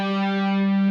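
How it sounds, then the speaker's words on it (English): A single sustained, distorted electric guitar note rings steadily and loud, with no speech. "you're starting out with alternate picking"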